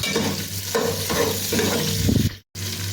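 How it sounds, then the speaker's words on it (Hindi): Chicken fries with whole garam masala in a pan, with close, loud stirring scrapes and a continuous sizzle, then a brief cutoff near the end before the frying resumes. "चलिए इनको फ्राई कर लेते हैं सब चीज़ों को।"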